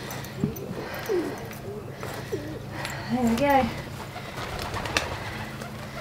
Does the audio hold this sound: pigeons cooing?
yes